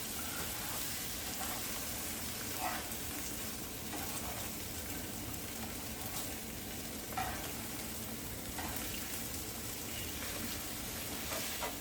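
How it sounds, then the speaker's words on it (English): Scrambled eggs sizzling in a pan outdoors while being folded for breakfast burritos, a constant crackling fry with occasional soft scraping strokes, close and steady. "I'm just gonna literally fold this all up into basically scrambled eggs"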